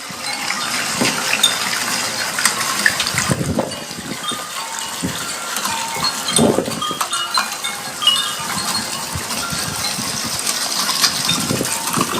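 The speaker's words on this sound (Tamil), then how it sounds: "இப்ப மழை பெய்யுது" Rain falls steadily outdoors, a dense continuous patter of drops with scattered louder splashes and a faint low rumble underneath, no voices.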